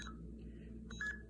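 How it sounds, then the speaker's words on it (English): A homemade blue box gives short electronic beeps from its volume control, faint and brief with a quick tone near the end over a low steady hum. "gives a high to low or low to high beep."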